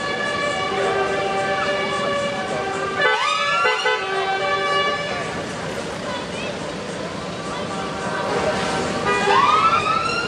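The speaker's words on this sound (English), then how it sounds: "you wait until that lights its siren again." Siren and horns from vehicles in a truck convoy arriving at Pleasurewood Hills, rising and falling wails sounding loud and close over crowd noise and talk, with a second swell near the end.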